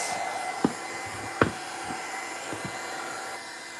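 A hair dryer blows steadily to dry a gesso coating on a wooden piece, a constant close whirring hum with a few soft knocks and taps of handling.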